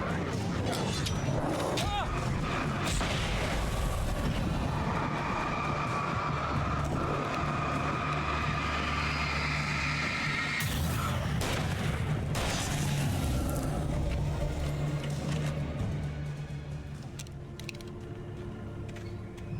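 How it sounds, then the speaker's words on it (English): Flashbang grenades go off in a video game, with a couple of sharp, loud bursts cutting through busy game audio of mechanical clanks and a steady background soundtrack. "Oh no! I will have to use these flashbangs."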